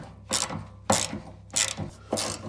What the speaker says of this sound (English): here we are doing up these bolts